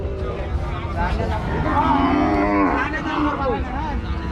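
Cattle moo repeatedly at a cattle market in Rajshahi, loud and close, with low drawn-out calls overlapping amid a noisy crowd murmur.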